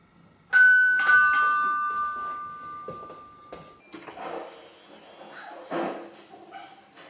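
A doorbell chimes in an office, a single clear ding-dong tone that rings out and decays over a couple of seconds, followed by a dog barking and whimpering nearby.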